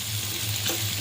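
Fish tawa fry sizzling in a pan on a griddle makes a brief, loud, steady sizzle and crackle close up, with no voices.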